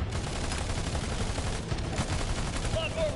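Rapid sci-fi gunfire rattles through a Battleborn match, a continuous stream of overlapping shots at steady loudness, with a couple of high whistling streaks near the end.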